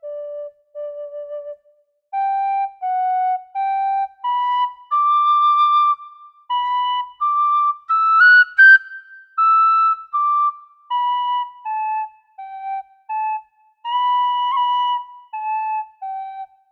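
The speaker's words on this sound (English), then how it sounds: "grab a D whistle and let's give this a try" The Irish reel The Banshee Reel is played on a D tin whistle, clear bright notes in short phrased bursts with brief breaths between them, close and alone with no accompaniment.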